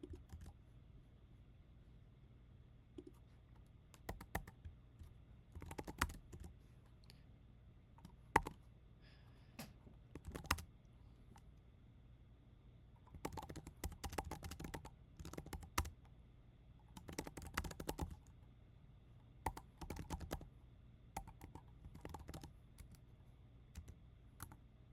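C code being typed on a computer keyboard, bursts of rapid key clicks broken by pauses and a few louder single keystrokes, close and quiet over a faint background hum.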